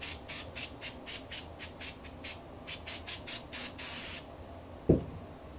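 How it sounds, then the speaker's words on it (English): Short bursts of Rem Oil aerosol gun oil sprayed onto a feeder rod while cleaning a Smith & Wesson M&P 15-22 rifle: about a dozen quick hissing puffs in an uneven rhythm, ending in one longer spray, close and fairly quiet. "Spray our feeder rod."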